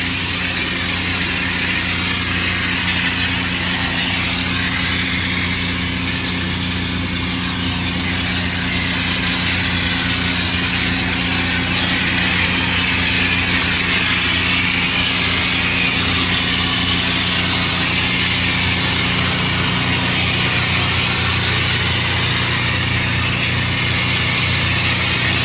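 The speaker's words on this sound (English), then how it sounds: "Hit just those stains again with our pressure washer or surface cleaner" A gas pressure washer with surface cleaner blasts oil stains on a concrete driveway, a loud, steady, unbroken engine drone and rushing spray that hold constant throughout.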